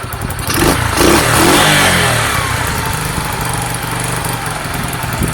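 Close, loud revving of a Sinnis SC125 motorcycle engine being tuned at the air fuel screw; the revs rise, then sink slowly back toward idle.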